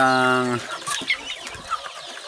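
Laying hens clucking on a chicken farm, a short, steady pitched call followed by a busy jumble of overlapping clucks and squawks close by.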